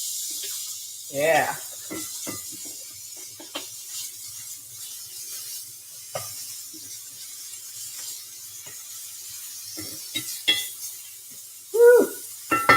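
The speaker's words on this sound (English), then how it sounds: "let's go ahead and get this yummy bacon, pasture bacon, uncured, into the skillet that's now nice and steamy" Uncured pasture bacon sizzles in a hot, steamy skillet, a soft continuous hiss with scattered pops and clinks, while a person talks over it at intervals.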